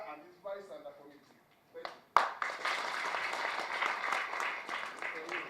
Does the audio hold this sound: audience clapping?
yes